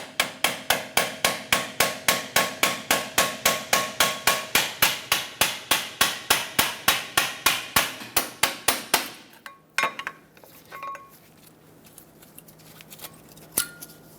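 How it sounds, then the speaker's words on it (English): A small hammer taps stuck brake pads out of a 2000-2005 Ford Excursion's front brakes in a fast, steady rhythm of sharp, close metal knocks, then slows to a few scattered hits against quieter background clatter. "I'm going to use a pry bar and a small hammer and tap them out."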